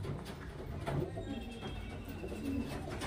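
Highflyer Kalshira pigeons coo steadily at close range, with soft repeated throaty calls layered over a dense low murmur of the flock.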